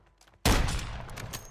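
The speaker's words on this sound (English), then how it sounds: "Fire your gun." A single gunshot fired in Call of Duty World War II-era combat, a sharp loud blast at once followed by a broad rumbling tail and scattered echoing reports that linger afterward.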